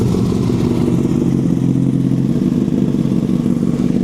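A Honda CBR Fireblade motorcycle engine idles steadily after a quick start, a loud, close, continuous low rumble with no one talking.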